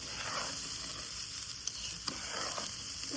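Chinigura rice frying in a pan for plain pulao, a soft continuous sizzle with a few light stirring scrapes, faint and close.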